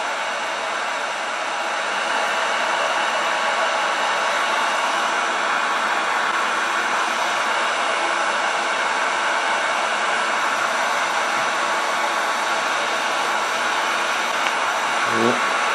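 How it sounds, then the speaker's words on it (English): A heat gun blows hot air while melting wax during a radio restoration, a steady loud broadband whoosh lasting throughout, briefly quieter at the start, with no talk. "I keep it moving because I don't want to drip any wax down into my heat gun"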